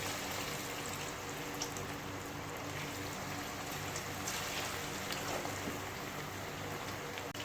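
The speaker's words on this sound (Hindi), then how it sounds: "ऑयल हमारा गर्म हो चुका है, तो अब इन्हें बोटियों को हम फ्राई करते हैं।" Marinated beef tikka boti pieces fry in hot oil, giving a dense, continuous sizzle that stays steady and fairly soft throughout, with no voices.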